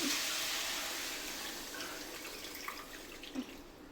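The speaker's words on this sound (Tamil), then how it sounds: "தண்ணி எடுத்து அதில் ஊற்றிக்கோங்க." Water pours into a cooking pan in a steady hissing stream that gradually thins out, ending in a few faint splashes and drips.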